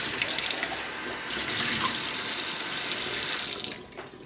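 Tap water runs steadily into a sink while a shot pheasant's crop is rinsed out, a close, continuous splashing hiss that swells midway and eases off near the end.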